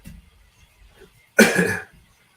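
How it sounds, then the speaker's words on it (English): A single harsh cough close to the microphone after a moment of near silence, with faint murmuring before it. "Excuse me for coughing in your guys' ear."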